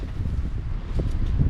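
Wind buffets the microphone over sandy ground on an exposed walk, a steady low rumbling roar up close with no other sounds.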